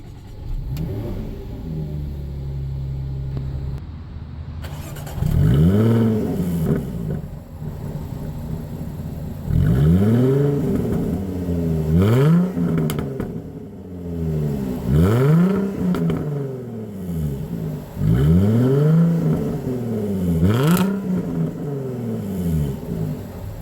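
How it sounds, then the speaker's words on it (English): A 2015 Jaguar F-Type S engine starts up, then revs repeatedly in rising, falling sweeps, four or five strong blips with idle in between, close and loud. "I'll go ahead and press the brake and start the engine."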